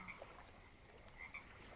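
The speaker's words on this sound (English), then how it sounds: "Can hear the frogs around you" Frogs croaking at twilight near a boat in a forest, a few quiet, sparse calls rising over a soft, faint background.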